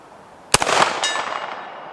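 A Canik Mete SFX pistol fires a single sharp shot at a 100-yard silhouette target outdoors, the loud crack followed by a short rolling echo.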